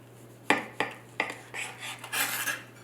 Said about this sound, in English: cut a slice off the top